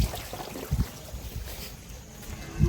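A full stream of water rushes through a single pipe in a steady, close, noisy gush, with a few low thumps and no talking.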